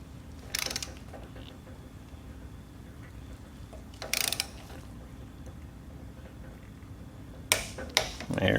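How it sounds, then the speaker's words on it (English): A torque wrench tightening a spark plug on a Briggs & Stratton engine, with brief bursts of ratcheting clicks at intervals, then two sharp clicks near the end over a quiet background hum. "the torque wrench is set to its 180 inch-pound torque."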